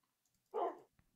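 A single short, faint bark from a wild dog or wolf in a video game, a lone yelp against near silence.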